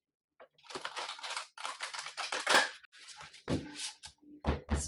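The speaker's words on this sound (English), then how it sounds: "One more shuffle." Tarot cards are shuffled during a reading, heard as several close, crisp bursts of riffling and flicking with short pauses between them.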